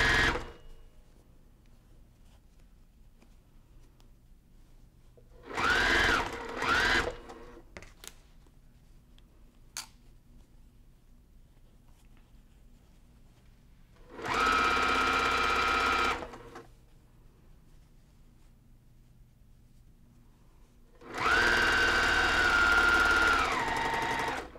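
A sewing machine stitching a seam on a faux pleated pillow made from jelly roll fabric strips, running in three separate bursts of steady whirring with quiet pauses between them.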